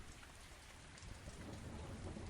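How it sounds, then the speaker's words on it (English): Steady rain on a rainy afternoon pours down in a dense, unbroken hiss of drops pattering on surfaces, with a low rumble underneath, holding an even, fairly loud level throughout with no voices. "The rain."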